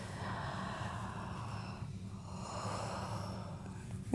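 Slow, audible breathing during a yoga stretch, a long drawn-out exhale followed by another breath, close and soft over a low background hum.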